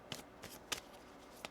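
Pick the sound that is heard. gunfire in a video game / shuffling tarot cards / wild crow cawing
shuffling tarot cards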